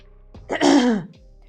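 A single throat clearing, a rough, gravelly rasp of about half a second, close and fairly loud, with quiet around it.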